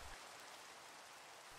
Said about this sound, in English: I'm literally standing on the border of the rain.